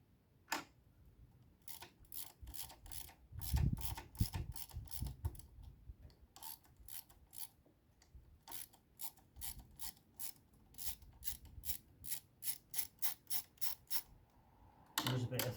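Ratchet with a Torx T30 bit undoing a thread-locked bolt on a KTM 890 SMT motorcycle gear shifter, giving close, crisp rapid clicking in repeated bursts, with a heavier creak as the bolt first breaks loose.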